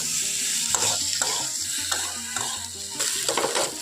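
Bitter gourd and potato pieces stir-fried with spices in a pan sizzle steadily while a spatula scrapes and knocks against the pan in a repeated, uneven rhythm, close and fairly loud.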